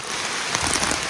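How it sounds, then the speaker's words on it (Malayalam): Dense, heavy rain hisses steadily on surfaces, a continuous loud wash of drops with no pauses. "നല്ല മഴ നല്ല കാറ്റോ"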